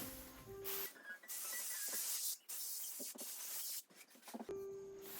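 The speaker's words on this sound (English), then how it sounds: "All you need to do is just shake it and then spray." Long hissing bursts from an aerosol can of stencil spray adhesive spraying in several steady passes, close and loud, with short pauses and faint rattles between sprays.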